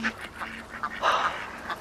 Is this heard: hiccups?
no